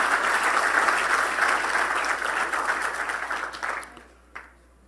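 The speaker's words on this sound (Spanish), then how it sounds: "Dale un fuerte aplauso a este Cristo maravilloso." A church congregation claps loudly in a dense, steady burst that thins out and fades near the end, with a last few scattered claps.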